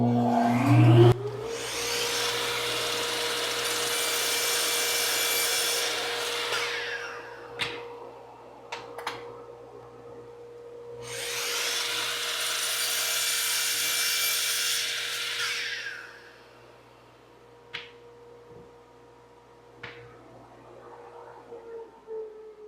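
A miter saw cuts boards with the dust collector running: a steady vacuum drone carries two loud, sustained blade-through-wood bursts several seconds apart, then scattered clicks and knocks as the saw winds down.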